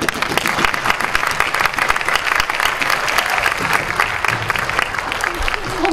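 A theatre audience at a performance of Peter and the Starcatcher applauds continuously, a dense, even wash of clapping that stays loud from start to finish.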